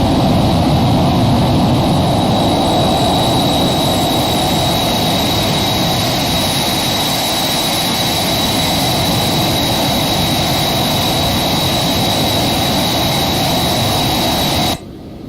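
Steady, loud jet engine roar of a Phenom 300 private jet making a low flyby in the X-Plane 11 flight simulator, a continuous broadband rush with a high whine holding throughout before cutting off near the end.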